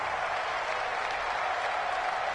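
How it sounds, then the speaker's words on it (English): Crowd cheering in a Madden football video game ahead of a big third down, a steady dense roar of stadium noise and applause, loud and continuous without breaks. "The crowd getting into it as we come up on a big third down."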